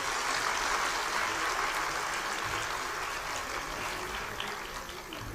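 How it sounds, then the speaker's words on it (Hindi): Audience at a public project-launch event in Karnal, with the Haryana chief minister present, applauding: dense, steady clapping that fills the whole stretch and fades only slightly toward the end, with no talk over it. "मैं चाहूँगी कि इस बात का स्वागत आप लोग सब भी एक राउंड ऑफ जोरदार तालियों के साथ करें।"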